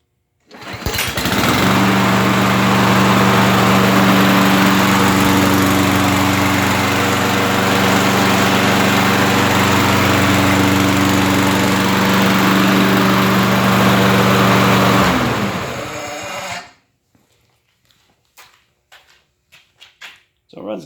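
Toro Super Recycler lawn mower with its Toro engine running steadily after a cold start, a loud continuous drone for about fifteen seconds before it cuts off, leaving near silence with faint speech.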